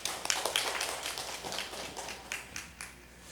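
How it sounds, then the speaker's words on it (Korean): Applause from a church congregation at a Sunday morning worship service, a burst of scattered claps that thins out over about three seconds, moderately loud and with no one speaking. "두 분을 위해서 박수 한번."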